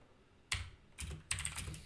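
Close, crisp clatters of a computer keyboard as code is typed, coming in a few quick bursts of keystrokes separated by brief pauses, quiet and without talking.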